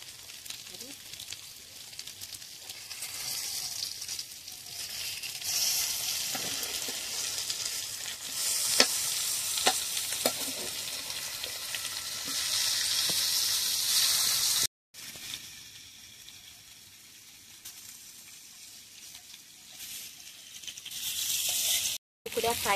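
Fish pieces frying in oil on a pan over a wood-fired stove, a steady close hiss and crackle with occasional sharp pops, briefly cut off twice, while someone talks over it.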